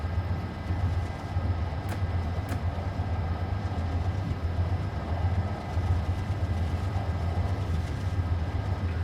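A P32AC/DM locomotive running on diesel in a simulated New York New Haven line setting gives a steady, loud low engine rumble with a constant hum that continues without a break.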